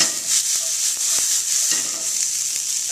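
Vegetables hit a smoking-hot restaurant pan over medium-high heat, giving off a loud, steady sizzle and frying hiss that carries through the whole stretch, with a few soft clinks and stirs underneath.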